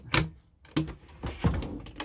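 A white drawer in a Karmann Mobil Dexter 625 campervan sliding open, a few close soft thuds and slides in quick succession.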